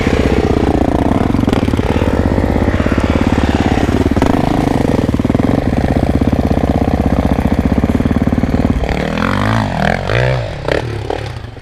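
A dirt bike engine roars loud and close on a hillclimb, revving hard and steadily for several seconds before the throttle drops and the sound turns uneven near the end.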